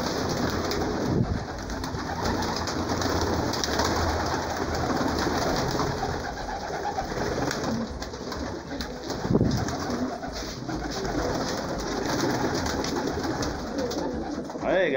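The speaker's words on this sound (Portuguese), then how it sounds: "Mostrando os pombos aí de reprodução." Breeding pigeons in a home loft coo repeatedly at close range, their soft rolling calls overlapping in a steady chorus over a low background murmur.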